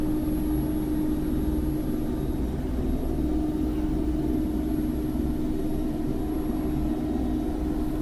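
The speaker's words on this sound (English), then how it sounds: "It's one of the fastest combat helicopters in the world" Mi-24P Hind attack helicopter in flight in the DCS World simulator, a steady low rotor and engine rumble with a constant turbine whine droning evenly throughout, loud and close as if from the cockpit.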